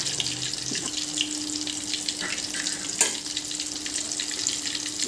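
Prawn masala egg balls sizzle steadily in hot oil, a close, continuous bubbling crackle with small pops and one sharper spatter midway.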